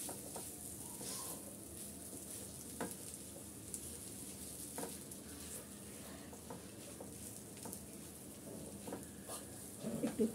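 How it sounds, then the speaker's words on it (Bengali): Spices stirred into oil in a frying pan make a soft steady sizzle, with faint scraping and occasional light knocks of the spoon, quiet and close. "এখন আমি ভালো করে নেড়ে চেড়ে মিক্স করে নিচ্ছি।"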